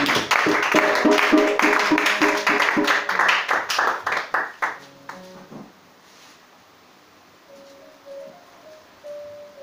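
Congregation clapping in rhythm at a Sunday church worship service to acclaim Jesus, steady loud claps for about five seconds with some musical tones, then fading into quieter room sounds and a faint sustained tone.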